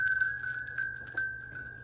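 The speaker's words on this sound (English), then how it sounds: "garland, a rope garland with bells" Small bells strung on a rope Christmas garland being handled, giving several bright overlapping jingles and rings that decay quickly, close and fairly clear.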